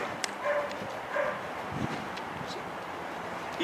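Dog on an obedience training session giving short yips and whimpers, a couple of brief faint bursts over steady background hiss, with a voice speaking commands nearby.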